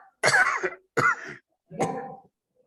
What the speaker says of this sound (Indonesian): siapa itu yang batuk?